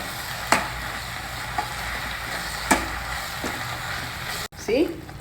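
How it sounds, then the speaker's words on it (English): Gongura leaves frying in hot oil in a pan, a steady close sizzle with a few spatula stirs and scrapes, ending in a brief clatter. "See, fry the gongura leaves like this till they are well fried and they become very soft."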